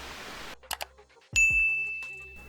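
A notification bell dings once, bright and sustained with a long ringing tail, preceded by a short clatter and noise; close and clear with no voices.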